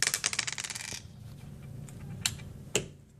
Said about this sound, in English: Oh, I roll both dice?